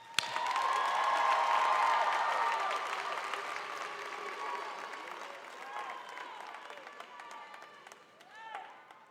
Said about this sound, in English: Give it a round of applause to the class of 2022.